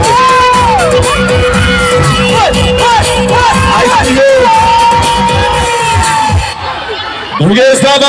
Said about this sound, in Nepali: यसरी जोरदार ताली बजाइदिनुहोस् सबैजना